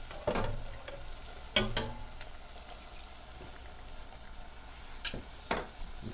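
Saffron risotto rice being stirred in a pan, soft scraping and gentle bubbling sizzle with a few sharper clinks of the spoon, quiet and close with no talking.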